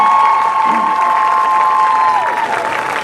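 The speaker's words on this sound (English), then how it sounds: "So give this team a round of applause." An audience gives a dense, continuous round of applause and some cheering for the 1994 Minnesota state champion boys basketball team, with a sustained tone running through the crowd noise.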